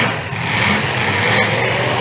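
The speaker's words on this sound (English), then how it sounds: "Somebody's on the rev limiter hard." A car engine at a demolition derby, held at high revs against the rev limiter, produces a steady, loud, rough roar with a brief stutter partway through, set against open-air arena noise.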